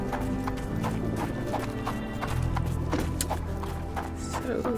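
Horse hooves clip-clopping in the Sherlock Holmes: The Awakened video game, a steady, fairly loud run of hoofbeats over a constant game ambience, with a brief whinny mixed in.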